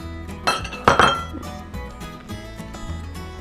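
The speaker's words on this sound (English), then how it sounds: "After you get it all stirred up good" Pecan pie filling stirred in a glass bowl, with a few sharp clinks of a utensil against the glass near the start, then softer scraping and tapping that continues steadily up close.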